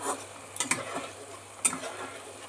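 Fish cooking in a pan, with soft sizzling under a few sharp clinks and scrapes of a utensil stirring against the metal, fairly quiet and close.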